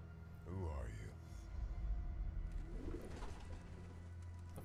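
Pigeons cooing in the stealth game Hitman: Absolution, soft warbling coos rising and falling close by over a low hum, with a voice speaking briefly alongside.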